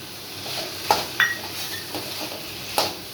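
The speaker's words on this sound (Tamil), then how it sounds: "இப்போ உருளைக்கிழங்கு போட்டுக்கலாம். உருளைக்கிழங்கு போட்டு பட்டாணி" Potatoes and peas are stirred in a cooking pan for a potato-pea fry, with a few sharp metallic spoon scrapes and clinks over a low steady background, close and with no talking.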